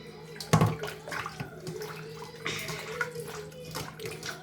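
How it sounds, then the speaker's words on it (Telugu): Raw chicken being washed by hand in water for a chicken curry, with splashing and sloshing in a bowl or sink, one louder splash near the start followed by steady rinsing and dripping. "వాటర్ వేసి ఇలా వాష్ చేసిన తర్వాత ఇలా వాష్ చేయాలి"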